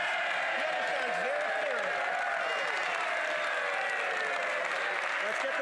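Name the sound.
applause in the House of Commons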